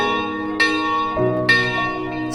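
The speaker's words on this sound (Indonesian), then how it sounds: "ditandai dengan bunyi lonceng pertama" A church bell marks six o'clock in the evening during the Kure tradition, sounding loud and close with several overlapping resonant strokes whose tones ring on and slowly decay.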